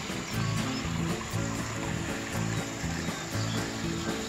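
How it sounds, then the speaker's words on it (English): Water flows over rocks in a small backyard rock waterfall, a continuous close splashing trickle heard without speech. "Cool little waterfall between those rocks."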